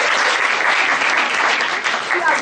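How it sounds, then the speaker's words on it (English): An audience at a university event gives a loud, dense round of applause, many hands clapping continuously and close up. "Let's welcome her with a round of applause."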